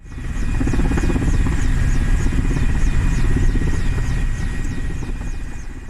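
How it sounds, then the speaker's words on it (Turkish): Firefighting helicopter over a forest fire, loud steady rotor thump and turbine whine holding close and constant throughout, with no voices. "Helikopter alevlerin yükseldiği yerlere su bıraktı."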